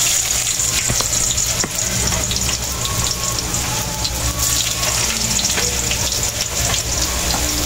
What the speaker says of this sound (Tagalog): igisa na natin yung karne ng manok mga kaibigan. Ilagay ko muna ito mga ingredients. Unahin natin lagay po mga kaibigan ay luya.